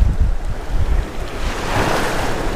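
Strong wind buffets the microphone with low rumbling gusts, mixed with the wash of surf nearby on a cold West Florida beach.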